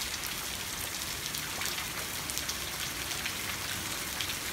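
Constant rain falls on hard surfaces, a loud, even hiss with scattered droplet spatters throughout.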